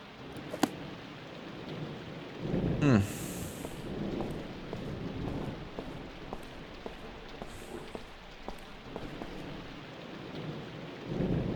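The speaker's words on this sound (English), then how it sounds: "It's raining." Soft, steady rain patters throughout with faint crackles in the video game White Day, while a low rumble of distant thunder swells briefly near the start.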